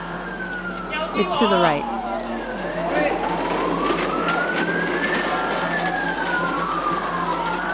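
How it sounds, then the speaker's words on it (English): Police sirens wail and sweep up and down as emergency vehicles pass, loud and close at first, with a brief spoken remark and traffic noise underneath. "A long line of police vehicles with sirens blaring and lights flashing approach"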